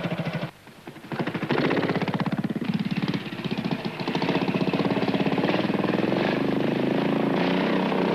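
A trials motorcycle engine revs and putters continuously and loudly as the rider balances the machine on slippery ground, with the note rising and falling through throttle blips and wheel spin.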